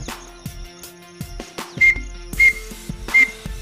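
A partridge call imitated by blowing across a pen cap, giving three loud, sharp whistled chirps at a steady pace over quieter background sounds.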